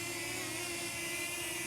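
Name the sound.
DJI Flip mini drone flying close to microphone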